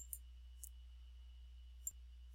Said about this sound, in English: And then click the Submit button